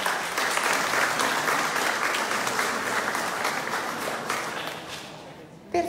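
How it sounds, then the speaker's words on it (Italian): Sustained audience applause at the opening of an art exhibition, dense and steady for several seconds before fading out at the end. "lui merita veramente un grosso applauso"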